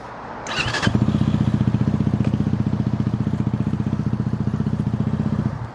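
A KOVI Lite 300 motorcycle engine starts with a brief rough burst, then settles into a steady, even idle that putters rhythmically close up for several seconds before cutting off.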